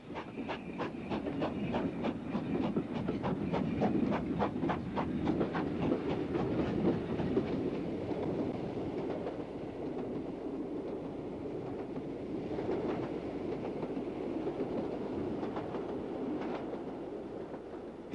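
A steam train hauled by two Glen 4-4-0 locomotives climbing a 1 in 70 grade after Glenfinnan, with steady rhythmic exhaust beats and rail clatter at a moderate distance, continuous and without talk.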